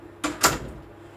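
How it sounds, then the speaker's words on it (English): A door in a room pushed shut before cleaning a pedestal fan: two quick close knocks, a light contact then a firmer thud about a quarter second later, near and moderately loud against a quiet room hum. "So I'm going to close this door for a moment."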